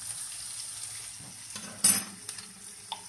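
Hot garlic and chili paste fries with onions in a pan, giving a soft, steady sizzle. A single utensil clink sounds partway through, and the whole scene stays quiet and close.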